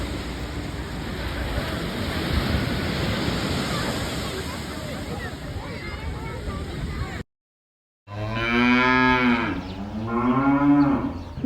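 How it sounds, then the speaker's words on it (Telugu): Cows moo beside a beach: two long, loud lowing calls come after a brief silence, following steady crashing surf and wind. "బీచ్ పక్కన అయితే చాలా ఆవులు చూశాను"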